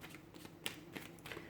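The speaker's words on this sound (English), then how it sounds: "we'll give the cards a shuffle here" Tarot cards are shuffled close by, a soft, quiet, continuous riffling and flicking with faint papery taps.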